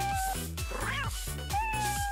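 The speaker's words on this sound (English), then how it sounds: "Good kitty." A cartoon cat meows in a Toca Boca animated scene, a clear drawn-out meow heard up close over a steady bouncy music track, with no talking.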